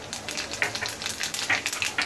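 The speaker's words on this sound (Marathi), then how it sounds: "त्यामध्ये ना आपण जिरं घालूया" Cumin seeds sizzle and crackle in hot oil in a kadhai, a soft steady hiss broken by scattered sharp pops.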